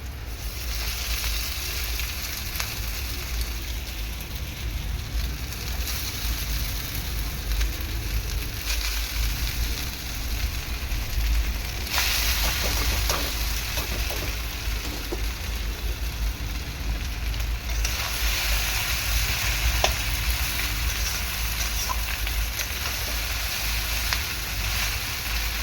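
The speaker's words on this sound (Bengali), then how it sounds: "হালকা করে ভাজবো, খুব বেশি ভাজবো না।" Chowmein ingredients frying lightly in a home kitchen give a steady, close sizzle that runs without a break, with faint stirring clicks scattered through it and no voices.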